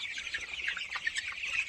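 Chickens huddled together in a coop on a bitterly cold winter morning cluck and chirp steadily, a close, continuous chorus of overlapping calls with no talking.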